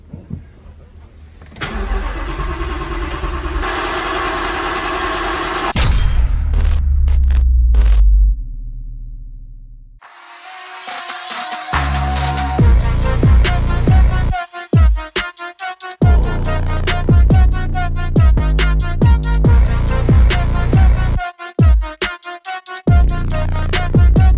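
Supercharged 5.2-litre engine swapped into a 2019 Mustang GT fired up for the first time in a garage: a loud starter crank and catch, a brief lull, then a choppy, rumbling idle with sharp rev blips, with no talking.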